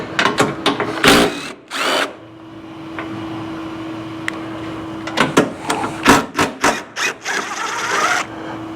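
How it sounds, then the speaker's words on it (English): A power drill whirs in short, loud bursts while fitting rock sliders and tree kickers with Delrin parts to a Kawasaki KRX 1000 UTV, with a steady hum between bursts and clatter at the start and end. "do some drilling and stuff"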